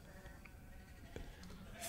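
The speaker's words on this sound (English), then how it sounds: "One of the sheep has just fallen out." Sheep bleat faintly in the video game Lambyrinth, with a few short distant baas scattered through a noisy background that swells near the end.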